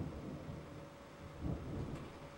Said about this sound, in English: it's raining outside and I just heard thunder and that freaks me out.